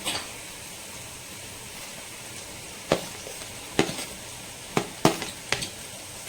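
Cut mushrooms sizzle in a hot pan while a spoon stirs and scrapes them at irregular moments, a steady frying hiss under sharp clicks of utensil on metal.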